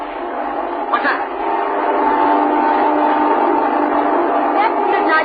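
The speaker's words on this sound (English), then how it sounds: "That's the midnight train now." A midnight train passes near a building at night, a steady loud rumble of rail cars with a brief horn-like swell early on, heard through a muffled, narrow-band recording.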